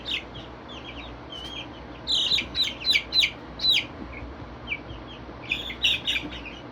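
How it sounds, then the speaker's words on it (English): A young hen clucks and chirps while being held on a homestead, with bursts of short rapid clucks coming close and loud, then pausing before a final cluster. "I think this is a hen."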